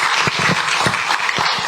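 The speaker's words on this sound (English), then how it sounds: "Another round of applause, please." An audience at a Ghanaian media report launch event applauding, a steady, close round of clapping with individual claps audible throughout the short burst.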